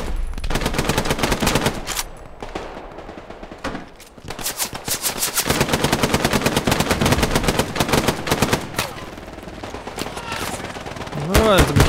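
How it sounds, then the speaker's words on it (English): Machine gun fire in the World War II shooter game Hell Let Loose comes as loud, sustained rapid bursts of automatic fire with brief pauses, heard up close, with occasional voices talking over it. "there's a machine gun over there somewhere"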